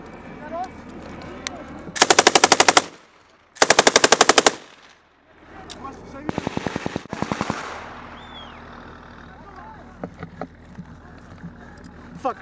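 Loud bursts of heavy machine-gun fire rattle in rapid, even strings, with a few shorter volleys and distant pops between them, amid shouted voices in a combat scene involving an A-10.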